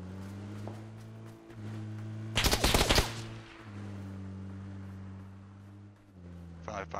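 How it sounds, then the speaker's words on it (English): Rapid bursts of automatic gunfire in PUBG, a loud dense volley of about half a second from roughly 2.4 to 3 seconds, over a steady low engine hum, with a second short burst of shots near the end. "Two people shooting at you from every position"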